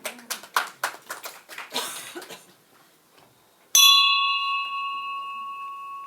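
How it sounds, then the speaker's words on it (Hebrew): A bell rung to open a Rotary club evening gives one bright, sharp strike that rings on with a long, slowly fading tone, following a burst of applause from the gathered audience. "לפתוח את הערב בצלצול פעמון"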